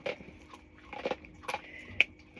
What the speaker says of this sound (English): Now she's going to munch and crunch on that, so apologies for the dog sound.